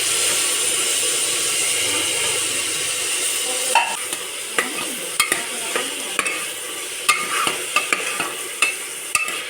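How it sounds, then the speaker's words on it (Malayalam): Chopped tomatoes fry in a pan for tomato rice with a constant hiss, and from midway a spatula scrapes and taps in a series of sharp stirring strokes, close and clear. "നമ്മൾ അരിഞ്ഞ് വെച്ചിരിക്കുന്ന തക്കാളി ഇതിലേക്ക് ഇടുവാണ്."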